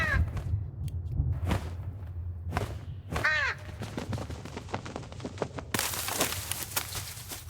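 A crow caws a few times in a horror video game, sharp harsh calls standing out over a low ambient hum, followed by a run of clicks and a burst of noise near the end.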